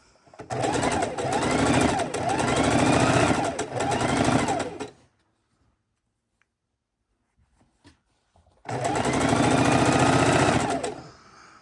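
A sewing machine runs in two long bursts, its rapid mechanical chatter loud and close as it stitches quilt border fabric strips, with a quiet pause between runs.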